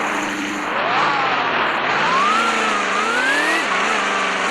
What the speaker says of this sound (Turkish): Arabanın sesi de değişti arkadaşlar.